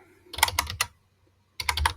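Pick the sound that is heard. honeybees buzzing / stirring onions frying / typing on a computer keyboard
typing on a computer keyboard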